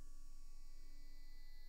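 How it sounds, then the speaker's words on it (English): A synthesizer plays a steady sine wave through a low-pass 12 filter, a quiet, unchanging pure tone with a faint pulsing hum underneath, and no voices. "There we go, sine wave."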